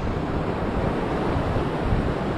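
Sea waves wash against the shore where someone is rod fishing, a close, continuous roar of surf mixed with wind buffeting the microphone.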